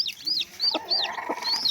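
Newly hatched chicks peep in high, repeated chirps close by while a hen gives soft, low clucks now and then, inside their nest.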